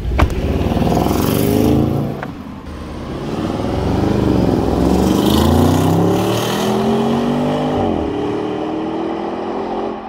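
A car drives away and accelerates hard during a test drive, its engine rising through the revs with audible gear changes, loud and close at first, then pulling off steadily.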